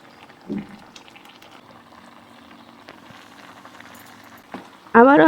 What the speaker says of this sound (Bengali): আবারও আমি খুব ভালো করে নেড়ে চড়ে বেশ কিছুক্ষণ সময় নিয়ে ফুটিয়ে নেব।